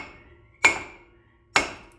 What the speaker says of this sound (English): engineer hammer, and we'll smack the flywheel and hopefully she'll pop off.